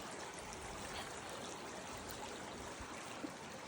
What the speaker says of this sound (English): The water's just running across the rocks back there.